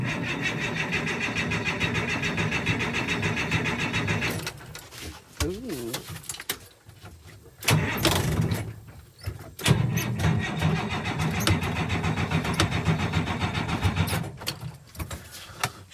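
An old party bus engine cranks and turns over in loud, close, rhythmic bursts, with breaks and a few clunks between the runs. A person talks during the clip.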